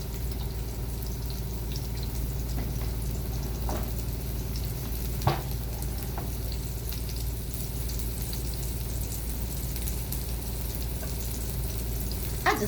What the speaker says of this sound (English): I just love that sizzling sound when I'm frying.